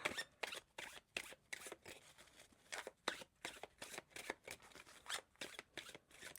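Tarot cards being shuffled by hand, a rapid series of crisp riffling bursts in an even rhythm, close and fairly quiet with no talking.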